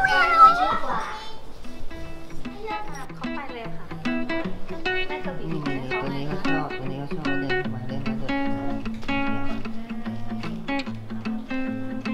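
Cats meow at a Thai cat cafe, with several mewing calls rising over steady background music and chatter, close and fairly loud.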